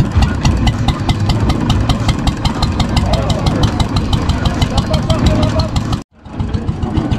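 An old tractor engine with an electric starter idles loudly in a fast, even chugging rhythm, then cuts off abruptly near the end, leaving quieter background noise at an outdoor vintage tractor gathering.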